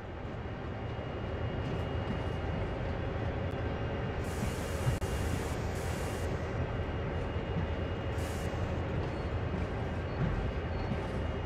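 A locomotive in Train Sim World comes to a stop during yard switching, with a steady heavy rumble and short bursts of hissing air from the brakes.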